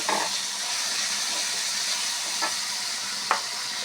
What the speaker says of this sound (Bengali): এখন কিছুক্ষণ বেড়ে নিচ্ছি